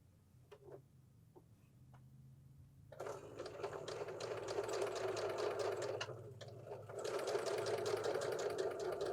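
Sewing machine stitching a row of a scrappy quilt block, a close, steady rapid ticking whir that starts after a few soft clicks and runs continuously, briefly pausing once before speeding up again.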